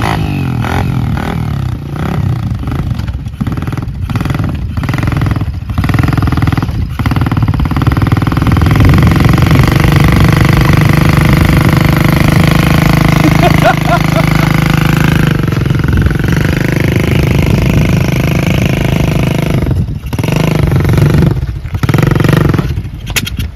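Venturo flying motorbike ridden across Jura scenery in Scotland: a continuous loud, rough engine drone with rattling pulses, close and steady throughout, with someone talking over it.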